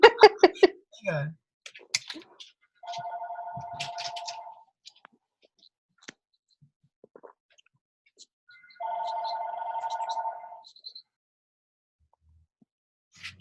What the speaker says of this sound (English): Somebody's ringing in.